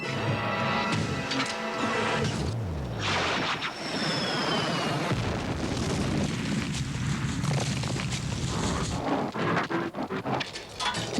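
A cartoon weapon is fired in the middle of a traffic jam, setting off a loud, sustained crashing explosion with rumbling debris and clatter that fills the whole stretch at close range.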